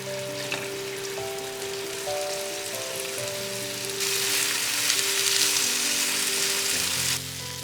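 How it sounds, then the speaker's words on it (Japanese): Vegetables stir-frying in hot sesame oil in a frying pan, a continuous close sizzle with a louder hissing burst midway, then settling back down. "フライパンにごま油を熱し、白身魚と小松菜の葉以外の野菜をすべて入れて炒めます。"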